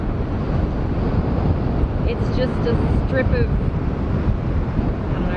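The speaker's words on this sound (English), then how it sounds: "as you can probably hear, it's insanely windy" Loud, continuous wind buffeting the microphone with a low roar throughout, on a rocky, sandy beach near Mount Gambier, South Australia, while a person talks underneath.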